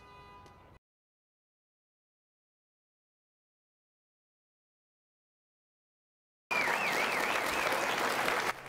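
Loud applause and cheering in a room after an election win, bursting in after a long silence and continuing as a dense, continuous roar with a rising whistle-like tone riding over it.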